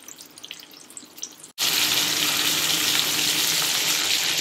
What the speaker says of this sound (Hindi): ये मैं ग्रिल पैन में इसे ग्रिल कर रहा हूँ।